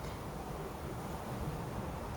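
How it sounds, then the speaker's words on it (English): Low, steady rushing wind buffets the microphone, a soft continuous roar with no voices. "it's pretty windy today"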